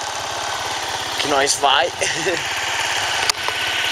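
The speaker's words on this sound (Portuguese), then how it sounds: "Ali é outra moto" A motorcycle engine idles with a steady low mechanical rumble throughout, while a person talks briefly over it outdoors.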